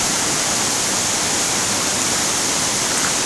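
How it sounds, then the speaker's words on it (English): A small burn in spate after heavy rain rushes beneath a little bridge at Lamlash, a steady, full, close roar of fast-flowing water with no voices. "Even a little burn like this, it's just racing down."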